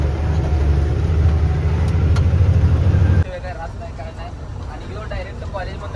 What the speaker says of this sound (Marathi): बघताय गाड्या कसं चालल्या